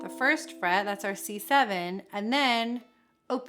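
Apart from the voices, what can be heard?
None of the usual background noises is heard.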